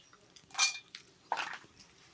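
Peanuts tip into a mixer jar beside a wood-fired stove in two short, bright rattling bursts, close and crisp against a quiet background.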